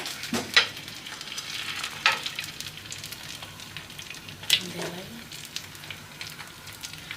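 An egg frying in oil in a pan for a bread omelette gives a soft, steady sizzle with a few sharp clicks and scrapes, fairly quiet and close.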